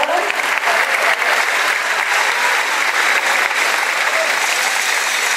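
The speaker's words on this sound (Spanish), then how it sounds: "Igual les pido un fuerte aplauso por favor para nuestra gobernadora." Sustained applause from an audience greeting the governor-elect of Morelos, a dense, even wash of many hands clapping at steady loudness throughout, with no voices standing out.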